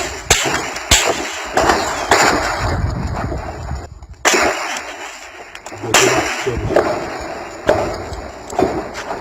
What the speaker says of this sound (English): Serious gunshot everywhere.